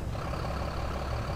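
A dump truck engine in a demolition company simulation game runs as a steady, close, low diesel rumble, continuous and alone for the whole moment.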